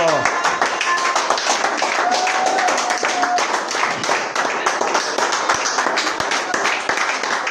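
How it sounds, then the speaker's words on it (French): A companion claps along during a lively church worship service, sharp hand claps coming in quick irregular bursts over loud singing and music for the whole stretch. "j'ai vu mon compagnon applaudir"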